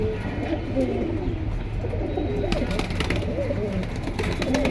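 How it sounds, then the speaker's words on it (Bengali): Pigeons, including a red pair, coo in a small pigeon market in Keraniganj, with soft repeated coos and chirps over a steady background bustle. "পাখির আওয়াজ দেখছেন খুব সুন্দর"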